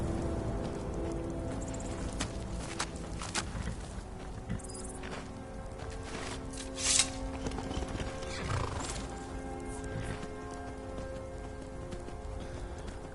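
A horse in the Skyrim video game clip-clops on its hooves at a walk and lets out neighs and whinnies, with fighting sound effects and game ambience around it.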